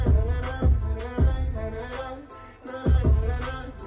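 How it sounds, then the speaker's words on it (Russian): A hip-hop beat with punchy, evenly spaced bass kicks and a melodic synth line, playing steadily without vocals. "И вот как звучит снипет трека, который они сделали вместе."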